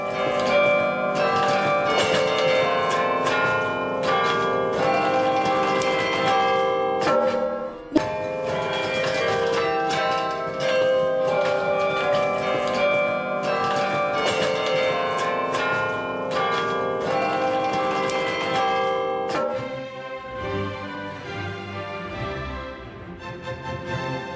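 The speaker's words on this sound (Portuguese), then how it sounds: "A torre de 83 metros de altura tem um conjunto de 47 sinos, tocados por um mecanismo especial." A carillon of 47 tuned bells in an 83-metre belfry tower rings together in a dense, continuous peal, loud and resonant, with overlapping tones that thin out and decay near the end.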